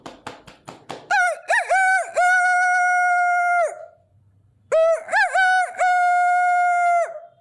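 A girl imitates a rooster crowing, giving two long, loud cock-a-doodle-doo calls, each with a wavering rise before a sustained held note, separated by a brief pause.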